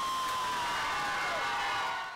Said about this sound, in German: Beim Public Viewing gibt es tosenden Applaus